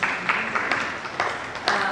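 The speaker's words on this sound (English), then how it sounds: "Continue clapping as she comes." Audience applause at a Kenyan business event, a continuous bed of clapping with a few sharper individual claps standing out at intervals.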